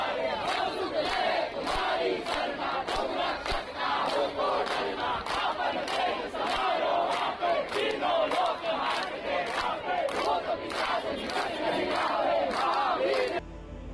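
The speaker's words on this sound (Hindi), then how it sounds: "विरोध कर रहे लोगों ने हनुमान चालीसा पढ़ी और जय श्री राम के नारे" Protesters in a Mira Road housing society in Mumbai chant Jai Shri Ram in loud, rhythmic collective bursts, repeated over and over with short pulses throughout.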